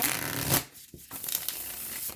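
Tarot cards being shuffled by hand, a close, continuous papery riffling and rubbing with a brief pause midway before the shuffling resumes.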